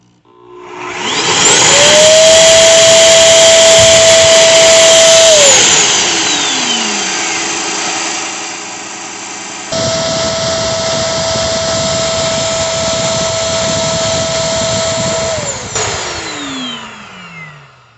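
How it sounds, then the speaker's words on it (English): A Bissell Crosswave wet dry vacuum runs its self-cleaning cycle: a loud steady motor hum with a rising whine that holds, winds down, then starts again for a second run and spins down. "we're going to hit the clean out button, and that's going to begin the clean out cycle where it's going to clean itself"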